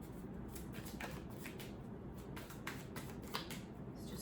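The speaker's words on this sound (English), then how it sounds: "Also, I am shuffling them, holding them upright." Tarot cards being shuffled while held upright, a soft continuous riffle of papery slaps and flutters, fairly quiet and close, with no talking.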